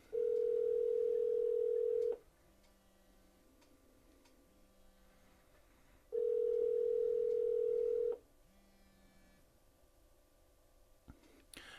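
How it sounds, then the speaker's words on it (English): A Pioneer AVH-EX in-dash receiver places a Bluetooth phone call: two long, steady calling tones about two seconds each, spaced several seconds apart, sound loud and clear, with a faint low hum between them. "the system begins to make a phone call"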